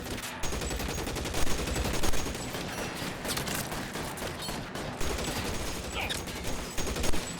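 Sustained gunfire in the LA Noire video game, a dense, continuous crackle of rapid shots with a few louder bursts, heard steadily throughout without pause.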